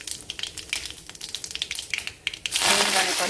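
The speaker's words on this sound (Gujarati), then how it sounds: "રાઈ તતડી ગઈ છે. હવે આમાં આપણે જીરું નાખીશું" Mustard seeds crackle in hot oil in a kadai for potato vada tempering, a brisk patter of pops. Then cumin hits the oil and a louder, continuous hiss takes over near the end.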